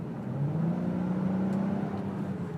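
A 2018 Honda Odyssey minivan engine drones steadily at about 4,000 RPM with a rising tonal whine, close and continuous.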